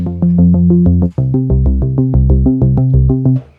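A synth bass played with a hold pedal pulses in fast repeated notes that blur and overlap into a sustained, droning wash, played alone and up front.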